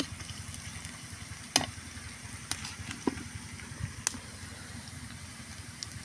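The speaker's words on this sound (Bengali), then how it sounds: "আমি তেল দিছি, পেঁয়াজ দিছি, দিয়ে এটা ভাজি করতেছি" Onions fry in oil in a pan with a steady, close sizzle, broken by a few sharp clicks and clatters as the pan is stirred.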